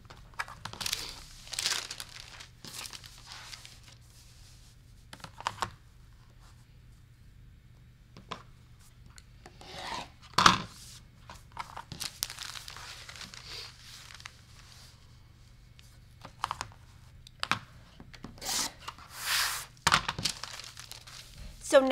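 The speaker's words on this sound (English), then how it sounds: "So I stack a couple and I cut." Stacked quilt fabric pieces for half square triangles are cut with repeated crisp crinkling, rustling and sharp cutting strokes in irregular bursts, with quiet gaps and soft handling noises between them.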